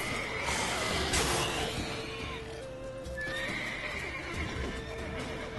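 Horse in The Witcher 3 video game, a loud neigh and whinny over clip-clopping hooves, with further whinnying and in-game ambient sounds across a few seconds and no talk.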